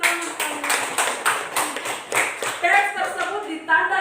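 A primary school class claps together in a quick rhythmic pattern of sharp, evenly spaced beats. Children's voices join toward the end.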